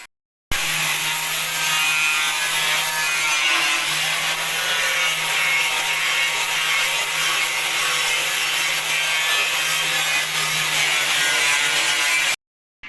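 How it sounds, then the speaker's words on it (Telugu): Angle grinder removing rust from the bonnet of an old Mahindra 475 tractor, a continuous loud abrasive rasping hiss with a steady hum underneath, close by and uninterrupted for about twelve seconds, with no talking. "తుప్పు అంతా అయితే నీట్గా అయితే గ్రైండింగ్ అయితే పట్టేస్తున్నాం."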